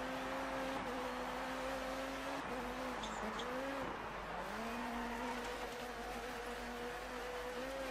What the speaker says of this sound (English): We've spun out and ruined it there.